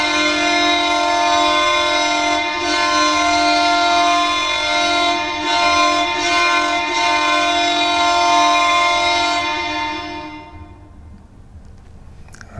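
Ottawa Senators NHL goal horn blaring loud and sustained, a rich chord-like train-style horn holding steady for about ten seconds before fading out, with no voices.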